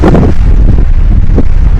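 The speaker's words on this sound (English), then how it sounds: "just a bit too windy" Strong wind buffets a microphone outdoors on a bikepacking trip along the Westcountry coast from Falmouth to Plymouth, a loud constant low rumble with heavy gusting and no voices.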